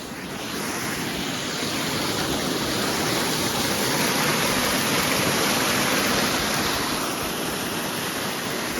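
A waterfall near a Mahadev temple at Saanthida pours in a loud, steady, unbroken roar of rushing water that fills the whole scene from start to end.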